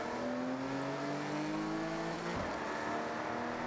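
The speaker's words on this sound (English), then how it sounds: "It allowed the car to chirp a little bit, which is good." A BMW in the Forza Horizon 6 racing game launches with its engine roaring and pulling hard, and a single short tire chirp cuts through the steady revving partway in.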